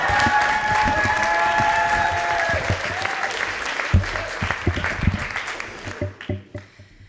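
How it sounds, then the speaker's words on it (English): Applause from a poetry slam audience at a teen event in a library, a dense sustained clatter that thins and breaks into scattered claps near the end, with a voice talking over it early on. "keep that applause going for our next poet, Chelsey Meyer"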